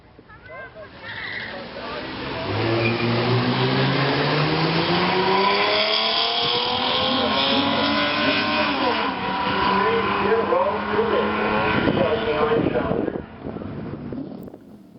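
A race car makes runs down a drag track at a racing nationals event, its engine rising in pitch as it accelerates past, loud and sustained for about ten seconds before fading out.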